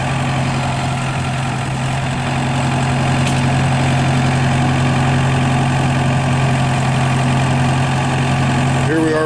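The engine of a Vermeer V120 4x4 trencher backhoe idles at an auction, a loud, steady low rumble with a constant drone that holds throughout.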